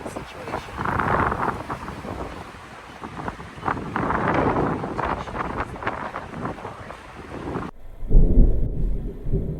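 Strong wind buffets the microphone aboard a sailboat heading south along the Croatian coast, a steady heavy roar with gusty surges before it drops abruptly to a low rumble near the end.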